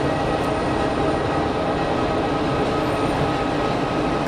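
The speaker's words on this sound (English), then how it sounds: "A couple of loud bizjets." Loud business jets departing Geneva Airport: a dense, continuous roar that holds at steady strength for the whole stretch, with no voices over it.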